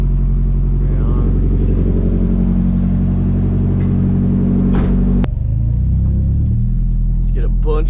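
A car accelerates and drives on a snowy road, its engine a loud continuous rumble from inside the cabin that shifts in pitch partway through, with a voice heard over it.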